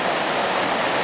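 A mountain stream on the Annapurna trek flows with a steady, full, close rushing of water and no other sounds.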